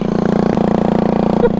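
A vertical-shaft engine mounted horizontally on a slow vehicle runs loudly and close, with a fast, steady, pulsing chug at constant speed.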